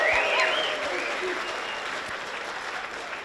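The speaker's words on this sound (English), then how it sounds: "So we'll practice our clapping and our whoop whoops as well" Audience at a graduation ceremony clapping and whooping together, a dense wash of applause with high cheers and whistles over it early on that settles into steady clapping.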